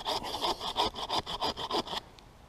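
A handsaw cuts into a red pine branch in about eleven steady back-and-forth strokes, close and fairly loud, then stops abruptly.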